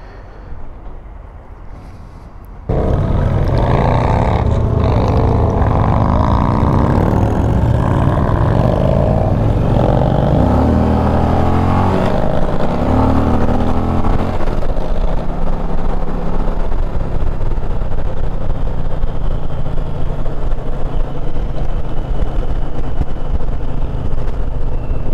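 Indian Challenger motorcycle riding up a mountain: after a quiet start, loud steady engine and wind roar kicks in abruptly and holds, with the engine note rising and shifting mid-ride.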